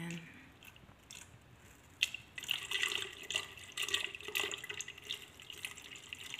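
Water trickles and splashes as it is poured into a potted plant, getting steadier and a bit louder after the first couple of seconds, close up and fairly quiet with no talking.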